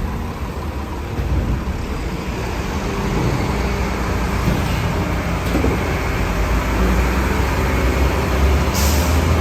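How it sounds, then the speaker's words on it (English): A private garbage truck collects trash on an Upper West Side Manhattan street in summer. Its engine rumbles steadily amid traffic noise, with a sharp air-brake hiss near the end. "It's not a city garbage truck."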